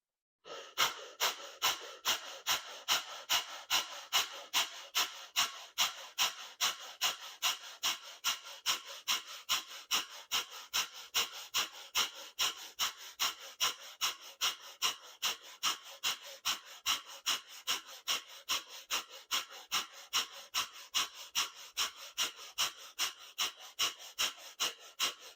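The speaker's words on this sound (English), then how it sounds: "So powerful breathing in through the nose" Rapid rhythmic breath-of-fire breathing, sharp forceful exhales pumped through the nose at a steady fast pace during a kundalini-style exercise, close and loud, continuing unbroken with no talking.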